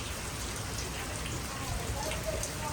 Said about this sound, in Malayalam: മഴ ഇങ്ങനെ പെയ്തുകൊണ്ടിരിക്കുകയാണ്